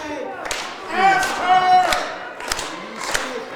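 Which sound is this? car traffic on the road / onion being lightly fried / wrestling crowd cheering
wrestling crowd cheering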